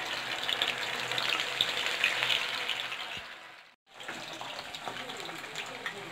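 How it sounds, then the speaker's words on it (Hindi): Suji pitha deep frying in hot oil in an iron kadhai, a steady close hiss of sizzling that drops out briefly and then returns at a lower level. "ये देखिए ऐसे लाल करके इसको फ्राई करना है ये तेल में।"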